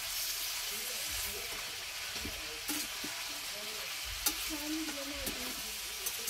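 Washed vegetables steam and fry in a pan, a steady hiss and sizzle with occasional stirring scrapes, and faint low sounds of talk in the background.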